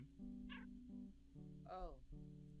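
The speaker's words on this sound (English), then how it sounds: "It's a meow button." Two short cartoon cat meows come from a multiplayer video game as a player presses the meow button. Each is a quick rising-falling mew heard over a steady, droning game soundtrack.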